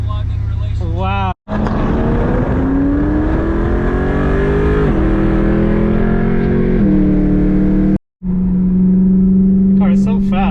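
A performance car, either a BMW E92 M3 or a C8 Corvette, accelerating hard through several gears, the engine note climbing and dropping at each shift, loud and close inside the car, with brief dropouts.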